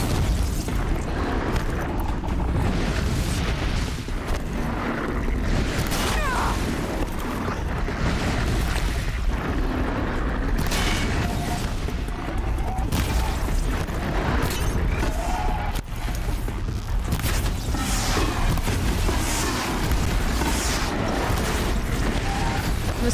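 Continuous game explosions and booming blasts from Horizon Zero Dawn, loud and dense throughout with layered rumbling bursts and mechanical noise, no talking.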